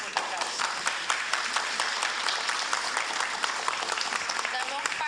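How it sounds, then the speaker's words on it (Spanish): An audience applauds steadily throughout, with dense, even clapping at a Peruvian panel session on a constitutional accusation case. A voice can be heard faintly under it. "Lo despedimos con un aplauso."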